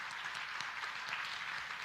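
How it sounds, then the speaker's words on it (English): Audience applause for Project Kids and early learning staff at a community excellence awards event, a steady wash of clapping from a moderately distant crowd, fairly faint and even throughout. "please, round of applause to them"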